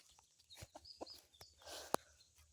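A rooster and chickens being gathered in a yard, with scattered soft clucks and short calls, faint and close, with light rustling between them.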